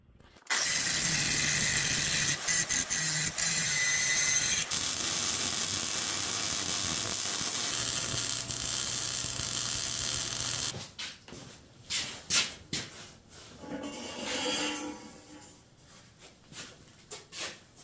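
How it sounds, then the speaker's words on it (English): An angle grinder grinds back a rusty weld on steel for a DIY car rotisserie, a loud steady whine for about ten seconds before giving way to scattered knocks and clatter. "Now I get to grind that back down and re-weld it."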